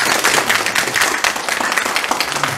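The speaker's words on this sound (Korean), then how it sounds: "열강해주신 조철 박사님한테 큰 박수 부탁드립니다." Dense, lively applause from a lecture audience, steady and fairly loud for the whole stretch.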